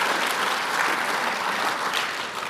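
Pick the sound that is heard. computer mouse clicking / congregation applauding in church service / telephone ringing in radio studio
congregation applauding in church service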